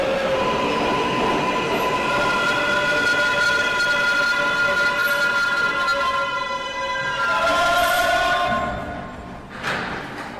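A subway train rumbles and squeals along the tracks, loud and close, with sustained metallic wheel screeches rising and fading toward the end.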